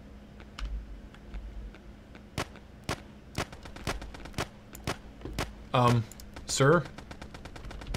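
Gunfire from a shooting video game: sharp, separate shots popping at an irregular rhythm over a low hum, with a brief voice and a couple of electronic bursts near the end.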